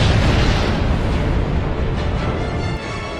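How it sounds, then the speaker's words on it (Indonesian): An atomic bomb bursts in the night sky over Tokyo in an anime scene, a loud, dense roaring blast that fills the whole clip with sustained rumbling noise and no voices. "bom atom tersebut meledak di langit kota Tokyo malam itu"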